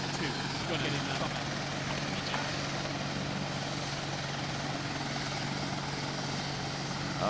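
Helicopter engine and rotor running steadily in the video game Arma 2, a loud continuous whine and drone filling the whole stretch without a break.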